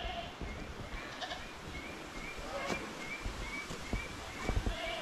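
Goats on a farm bleating in repeated short calls at middle distance, over a busy rustling outdoor background with occasional hoof knocks.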